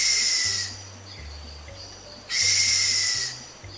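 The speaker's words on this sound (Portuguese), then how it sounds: "está um dos pica-paus brasileiros com a vocalização mais estranha. É o pica-pau bufador." Pica-pau bufador, a Brazilian woodpecker, gives two loud, breathy, hissing snort-like bursts about two seconds apart, each lasting roughly a second, against a quiet background with a low hum.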